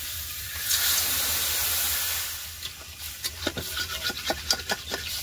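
Water hits a hot pan of banana curry fried with salt and turmeric, causing a loud burst of hissing steam that fades into quieter sizzling with scattered scraping clicks.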